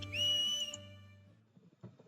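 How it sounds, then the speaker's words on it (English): A distant whistle signal in the video game Steam Prison gives one steady high tone for about half a second over a low hum. A faint rustle of sounds follows. "All at once I heard the distant sound of a whistle."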